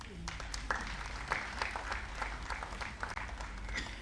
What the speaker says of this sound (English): let's put our hands together to welcome the Honorable Minister for kindly sharing his esteemed views with all of us.